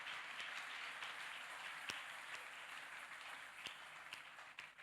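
A church congregation applauding during a Sunday service, a steady wash of many hands clapping at moderate distance that holds evenly throughout with a few sharper individual claps.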